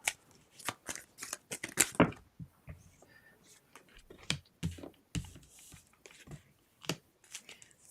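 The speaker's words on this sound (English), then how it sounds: "I promise you I shuffled these." A deck of tarot cards being shuffled by hand: a quick series of crisp, papery riffles and slaps in uneven bursts, close and fairly loud, with brief quiet gaps between them.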